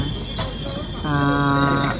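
An Amravati–Ajni intercity train goes by with a low rumble, then a sustained tonal whine like a horn or wheel squeal rising partway through and holding to the end.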